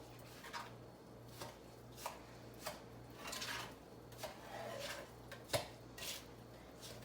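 A spoon stirs and scoops through a ground chicken meatball mix with egg in a bowl, making soft, wet scrapes and intermittent clicks against the bowl in an irregular rhythm. The sounds are close and fairly quiet over a steady low hum.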